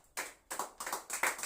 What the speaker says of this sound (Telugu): గట్టిగా చప్పట్లు పడదాం.